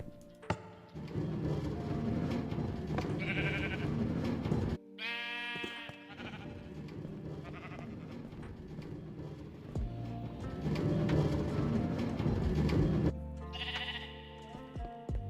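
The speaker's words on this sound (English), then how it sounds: "That sheep is clogging the way." Sheep bleat repeatedly in Minecraft, several short bleats standing out against a low, steady game background, fairly close and loud, with no talk over them.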